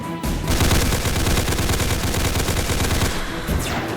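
A big enemy fires lasers in the Roblox game Darkdriver, producing a loud, dense stream of rapid-fire shots that runs continuously for several seconds with no speech.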